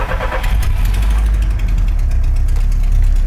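An Alfa Romeo 33 car engine cranks and catches, then settles into a steady, loud, close idle with a low rumbling drone for the rest of the moment, no voices over it.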